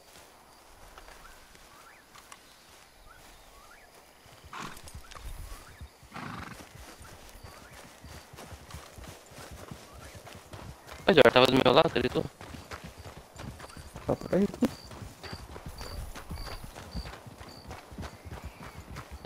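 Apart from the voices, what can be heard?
horse hooves clip-clopping in video game Red Dead Online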